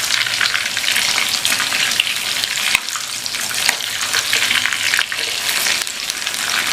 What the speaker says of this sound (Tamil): சோயாவை கொஞ்சம் கொஞ்சமாக போட்டு பொரித்து எடுத்துடலாம்.